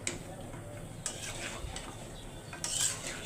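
Dried fish curry simmering in a pan, with a faint, steady sizzle and light stirring clicks, quiet and close, with no talking.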